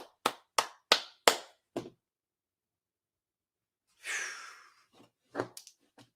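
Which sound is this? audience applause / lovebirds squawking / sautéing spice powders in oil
audience applause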